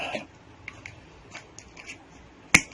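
Compound pliers cut and strip electrical wire, making several faint clicks and snips and then one sharp, loud snap near the end, heard up close with no talking.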